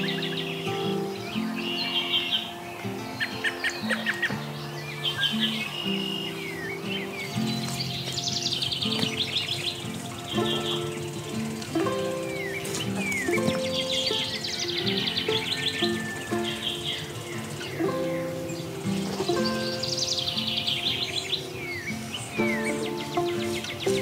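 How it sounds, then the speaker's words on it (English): Birds sing and chirp in a backyard vegetable garden where corn is grown, with repeated bright calls over a steady bed of music. "I'm gonna just sit here and enjoy the birds."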